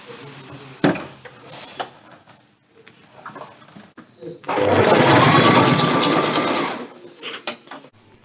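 A sewing machine stitches synthetic quilt fabric for a top quilt in one loud, steady run of about two seconds in the middle, with quieter handling clatter and faint bumps before and after.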